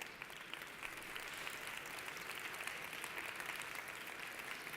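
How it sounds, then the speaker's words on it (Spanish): An audience at a European cities climate event applauds the speakers, a sustained, even wash of many hands clapping, fairly distant and soft, with no voices over it. "Rogaríamos que les aplaudieran por las intervenciones"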